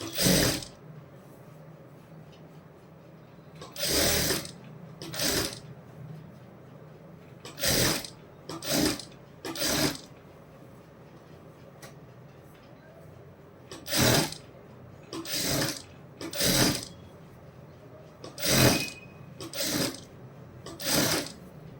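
A sewing machine stitches a half-inch sleeve hem in a dozen or so short, loud mechanical bursts of rapid clattering, separated by quiet pauses while the fabric is repositioned.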